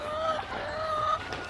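Several hens in a coop where they are laying eggs, giving steady clucking and soft vocal calls under background noise, with no talk.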